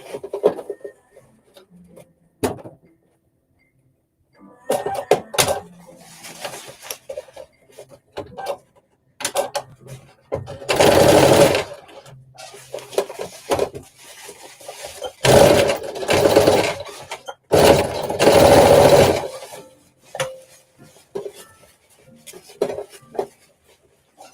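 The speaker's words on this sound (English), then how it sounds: "I'm just doing some top stitching, or under stitching, I should say." A sewing machine under-stitches a flared dress, running in several short bursts of steady whirring. Quieter rubbing and fabric handling fill the gaps between runs.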